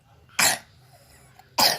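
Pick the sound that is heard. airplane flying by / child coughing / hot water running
child coughing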